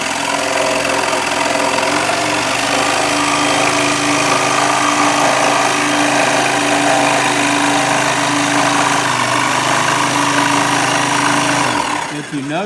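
A power saw cutting wood for an Adirondack chair, a loud, sustained buzzing whine held steadily at close range before cutting off abruptly near the end, with a voice speaking over it.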